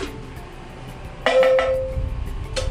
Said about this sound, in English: each of the gong has its own unique sound as well